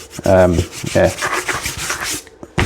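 Sandpaper rubs across the hull of a large 3D-printed plastic RC tank, with a few rasping back-and-forth strokes, close and loud, ending in a short pause and one final scrape.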